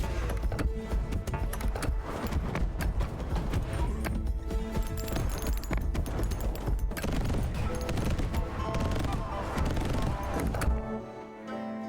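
Repeated mortar launches and impacts boom continuously in the video game Wanderberg, a dense loud barrage of overlapping blasts and clattering effects that cuts off abruptly near the end.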